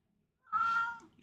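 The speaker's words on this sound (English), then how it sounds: "Cat." A single short cat meow, close and clear, rising out of near silence and fading after about half a second.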